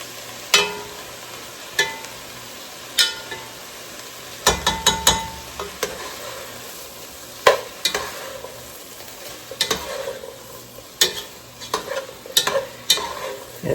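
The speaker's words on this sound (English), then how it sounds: "I'm going to add back the kielbasa to the pot" Kielbasa stirred back into a pot of homemade kale soup, a steady low sizzle under repeated sharp scrapes and clacks of the spoon against the pot, with a busy cluster of knocks midway.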